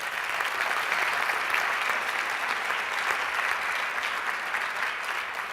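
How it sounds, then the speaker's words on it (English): An audience at a business seminar gives a round of applause, a dense, even wash of many hands clapping, sustained at a steady level for the whole stretch. "Guys, give him a round of applause,"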